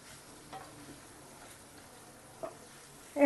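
Paneer fries gently in a pan on low heat, a faint steady sizzle broken by a few soft stirring scrapes, with a louder scrape right at the end and no talk.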